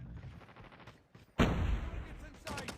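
Gunfire in the mobile shooter game Call of Duty Mobile, a few sharp shots early then a loud burst of blasts, with game sounds and some voice in the background.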